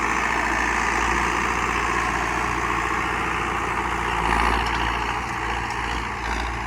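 A JCB four-cylinder turbo engine with an inline pump, fitted in a John Deere tractor, runs at a steady, loud idle nearby, a continuous low rumble with a slight swell midway.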